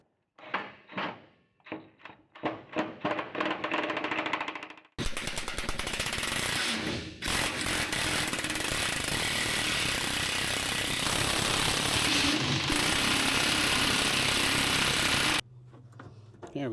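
A power tool drives grade 8 nylock nuts with flat washers onto a car hauler trailer: several short buzzing bursts, then a long loud continuous whir that cuts off abruptly.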